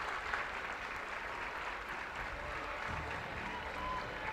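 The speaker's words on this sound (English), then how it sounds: "This crowd here gives her some polite applause" A softball crowd at a college game between Florida and Arkansas gives polite applause, a steady wash of scattered clapping at moderate volume that holds evenly throughout, heard from a distance.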